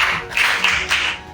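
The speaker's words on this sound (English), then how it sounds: "a hand of applause for her" Applause from a school media club audience in a Lagos studio, a short burst of close, bright clapping in quick irregular waves, fairly loud and without voices.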